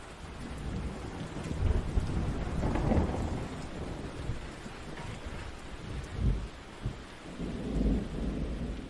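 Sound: heavy rain with thunder

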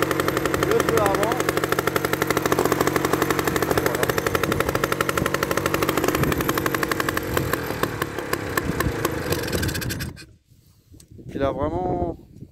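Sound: Solex 1400 moped engine running

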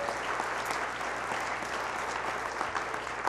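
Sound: church congregation applause

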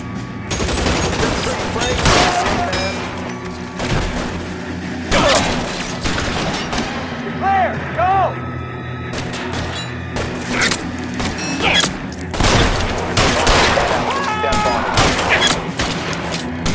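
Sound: gunfire shootout in video game LA Noire

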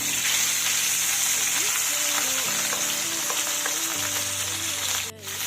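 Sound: pabda fish frying and spattering in oil

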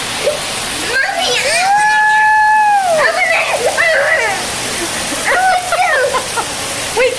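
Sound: heavy rain pouring down outdoors

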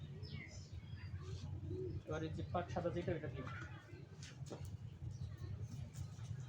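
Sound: racer pigeons cooing

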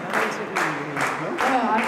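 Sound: audience applauding at a graduation ceremony

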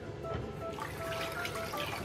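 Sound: rinsing face with cold tap water after shaving

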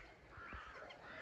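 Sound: poultry calling loudly

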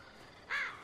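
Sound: crow cawing in The Walking Dead video game

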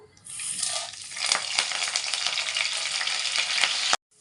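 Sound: spice tempering frying in hot oil

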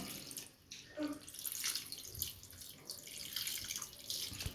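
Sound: water being poured into cooking pan

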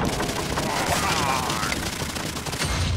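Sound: explosion in the video game Minecraft Dungeons

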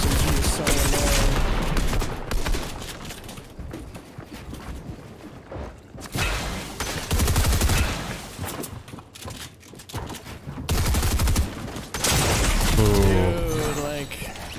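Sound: SMG gunfire in the video game Fortnite

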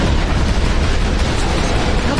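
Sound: explosions destroying life pods in video game Halo

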